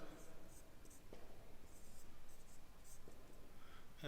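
Pen scratching steadily on paper during a lecture, a near, continuous run of short strokes at low level, with soft speech in the background.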